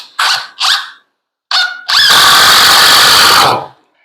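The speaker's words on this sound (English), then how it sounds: "so we'll put 2 screws on this side," A power drill drives screws into a 2x4 shave horse, with three short whirring bursts followed by a longer, loud, sustained whine as a screw sinks into the wood, heard up close and alone.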